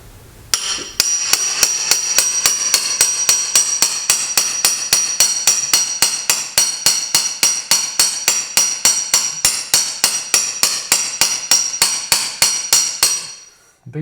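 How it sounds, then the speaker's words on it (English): A hammer strikes steadily to drive out a bearing packed with bread, about forty sharp metallic blows in an even rapid rhythm, loud and close, with no talk. "Bigger hammer would help, but it's coming out"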